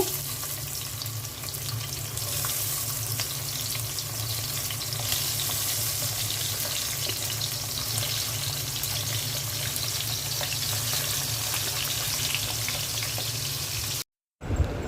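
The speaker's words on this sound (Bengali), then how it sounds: "পাতিলায় তেল দিয়ে দিচ্ছি, মাছগুলো দিয়ে দিচ্ছি।" Pabda fish frying in oil in a pot, a dense, steady close sizzle and hiss that holds throughout before cutting off briefly at the very end.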